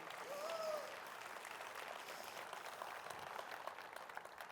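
Applause from a church congregation at a sermon on forgiveness, a soft, distant, continuous patter of many hands, with a brief faint tonal sound near the start.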